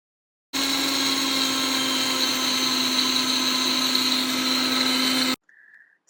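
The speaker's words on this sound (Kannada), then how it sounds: "ಮಿಕ್ಸರ್ ಮಾಡ್ಕೊಳ್ಳಿ." A mixer grinder whirs steadily at high speed for about five seconds, grinding grated coconut with garlic, coriander leaves, green chillies, salt and a little tamarind for chutney, loud and close with no talk.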